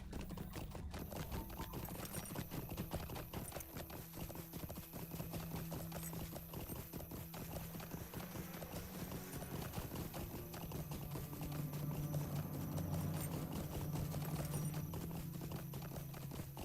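Steady clip-clop of horse hooves at a walking pace in the video game Lord of the Rings Online runs throughout, fairly quiet, with faint background music and no speech.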